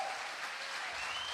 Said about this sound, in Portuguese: dê um aplauso bem forte ao Espírito Santo